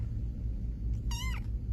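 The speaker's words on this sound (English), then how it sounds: "Dewey the library cat, whose name is an ode to the Dewey Decimal System, is living his best life nestled between the book stacks" A library cat lets out a single short, clear meow in the middle of a quiet stretch, close and alone over a low steady rumble.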